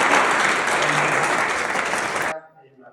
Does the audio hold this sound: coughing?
no